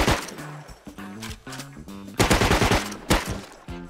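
Automatic AK rifle fire in a video game, loud close bursts of rapid shots with a heavier volley in the middle, continuing in short rhythmic strings.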